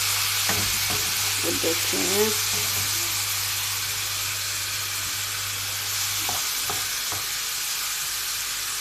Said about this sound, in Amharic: ነጭ ሽንኩርት እጨምራለሁ። ያ አብሬ አማስለዋለሁ